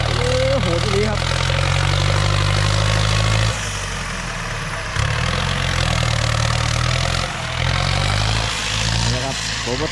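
A modified Ford 5000 Turbo tractor engine runs steadily with a loud, low rumble that dips briefly and picks back up, with people talking nearby.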